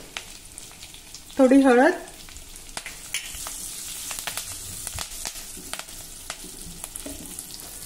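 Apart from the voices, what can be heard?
curry leaves and asafoetida sizzling in hot oil with garlic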